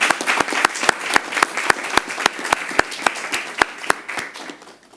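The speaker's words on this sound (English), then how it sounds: "let me ask for another round of applause for these very good presentations" A round of applause at the close of a panel on transparency and sustainable development, a small group clapping in fairly even rhythm nearby, fading out at the end.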